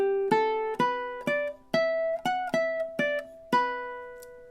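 Ukulele picks out the riff melody of a song, about ten clear plucked notes in a steady rhythm, each ringing briefly, close and alone.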